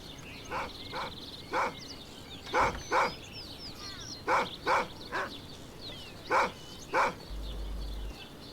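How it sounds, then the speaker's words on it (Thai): A dog barks repeatedly in Hitman: Blood Money, a run of about ten sharp, evenly spaced woofs over quiet game ambience, fairly close and with no speech. "ไอ้ยะหมาเห่าแล้วมีคนมาดูด้วย"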